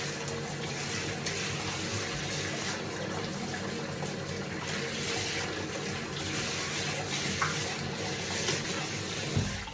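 A bathtub faucet runs hot water steadily for several seconds to rinse the tub, a constant splashing hiss with a couple of faint knocks near the end.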